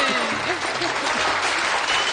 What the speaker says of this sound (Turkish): Kesin alkış bitti